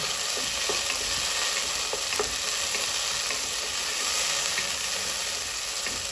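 Tomatoes and onions sautéing in a pan for a chicken leg gravy make a continuous, even sizzle with occasional soft ticks and scrapes from stirring, steady and moderately loud, with no talking.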